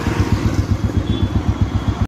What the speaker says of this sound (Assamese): বাইকৰ আৱাজ শুনিব পাৰে আপোনালোকে, ইমান মানে চাইলেঞ্চাৰ নাই